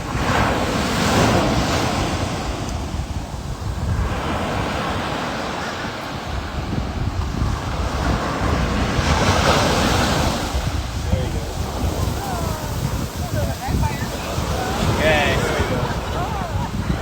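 Surf washes and rolls steadily onto a beach where loggerhead hatchling sea turtles are being released, with wind buffeting the microphone throughout and a person speaking over the continuous wave noise.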